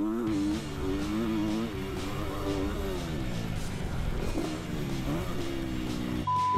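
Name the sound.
Kawasaki dirt bike engine revving over a jump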